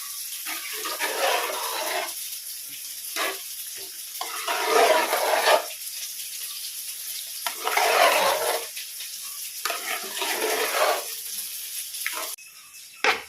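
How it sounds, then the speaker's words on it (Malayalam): A spoon stirs pongal in a cooking pot, giving repeated soft, wet, scraping swishes in uneven strokes, close and moderately loud. "ഇത് ഞാനൊന്ന് നന്നായി ഇളക്കി കൊടുക്കുകയാണ്"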